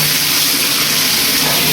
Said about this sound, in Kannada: ಈಗ ಬಿಸಿನೀರು ಬರಾಕೋತಾವೆ